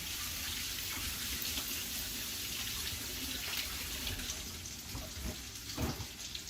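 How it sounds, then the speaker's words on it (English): A kitchen tap runs steadily during a quick hand wash, a close, continuous rushing water stream with a few splashy changes near the end as hands move under the flow. "Wash my hands quick."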